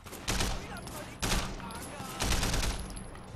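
Assault rifle fire in Sleeping Dogs comes in three loud, close bursts of rapid automatic shots, each dying away into ringing echo before the next.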